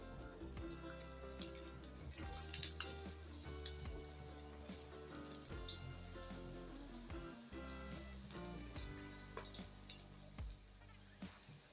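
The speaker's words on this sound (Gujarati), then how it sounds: "હવે આપણે બીજાને પણ એ રીતના ધીમા ગેસે તળી લેશું" Steady, soft sizzling of sabudana vada frying in oil over low heat, with faint bubbling and occasional small pops throughout.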